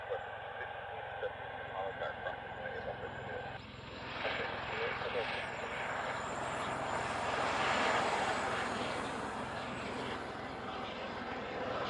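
A DHL Boeing 777 cargo jet co-branded with Singapore Airlines roars steadily at an airport, its broad engine noise swelling louder toward the end, with someone talking over it for part of the time.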